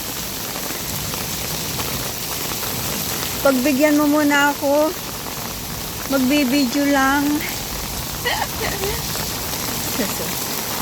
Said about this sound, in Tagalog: Lakas talaga ng rinig yung patak ng ulan.